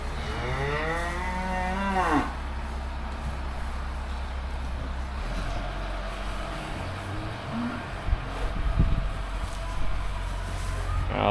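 Fat cattle in a deep-bedded pen let out a long, loud, nearby moo, followed by quieter shuffling and a low engine rumble in the background before fading bellows later on.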